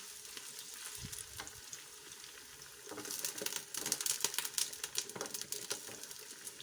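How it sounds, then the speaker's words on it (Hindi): Cut potatoes and lightly browned onions frying in oil, a soft sizzle that swells into a denser, crackling fry halfway through, with scattered spatula clicks and taps throughout. "आलू शामिल करके हमने प्याज और आलू को ऑयल में फ्राई करना है"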